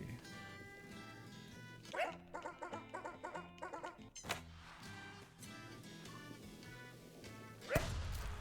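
A cartoon dog in the video game Ollie-Oop barks, giving a quick run of short, high yapping barks in the middle, with softer game sounds and a sharp yip near the end.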